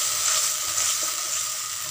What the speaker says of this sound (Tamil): நான் தக்காளி ஆட் பண்ணி நல்லா வதக்கி விட்டுக்கறேன்